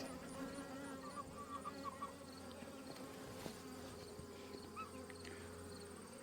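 Bees and drones crowd around a backyard hive, producing a constant layered buzz with passing insects weaving higher and lower whines, a faint outdoor backdrop and a few soft knocks.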